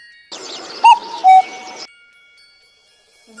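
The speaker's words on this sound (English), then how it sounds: "Cuckoo." A cuckoo calls its two-note song, a higher note followed by a lower one, clear and fairly close over a soft hiss of background.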